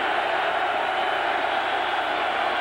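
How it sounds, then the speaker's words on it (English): A loud, steady roar from a packed football stadium crowd at a 2000 college game, Arizona at Oregon, holding as a dense, unbroken wall of noise throughout. "and the crowd really loud"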